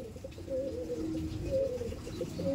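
Tournament pigeons of the Chennai (Madrasi) breed coo softly and repeatedly from close by, a steady low burbling call over quiet background.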